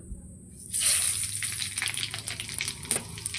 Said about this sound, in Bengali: এদিকে তেলও দিয়ে দিয়েছি কড়াতে এবার আমি ফোড়নটা দিয়ে দেবো